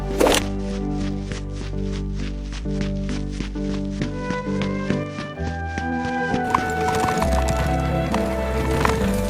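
In a fairy-tale cartoon, a horse-drawn king's carriage rolls by to a brisk, even clip-clop of hooves, with a neigh at the start and music swelling beneath.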